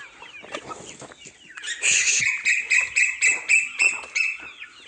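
A hen clucks close by in a series of repeated, rhythmic squawking calls, with softer scattered chirps and noises before them.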